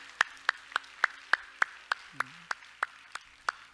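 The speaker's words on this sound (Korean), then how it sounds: "우리 하나님께 영광의 박수합시다" Sharp, evenly spaced claps sound about twelve times in a slow steady rhythm at a church service, fairly quiet with a faint voice murmuring partway through.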